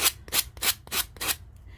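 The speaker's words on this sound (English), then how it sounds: "I'm going to be sanding off the decorative part from the edges" Five or six quick back-and-forth strokes of sanding the decorative edges off tin, a rhythmic rasping scrape, close and moderately quiet.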